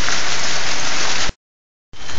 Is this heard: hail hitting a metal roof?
yes